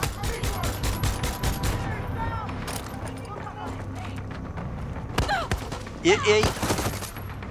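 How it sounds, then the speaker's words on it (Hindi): Heavy gunfire in the video game Far Cry 6: rapid automatic bursts early, then scattered loud shots and booms, with someone talking over the shooting. "यस, फायर तो जबरदस्त वाली हो रही है।"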